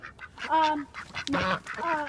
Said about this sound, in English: This was Sapphire, our blue Swedish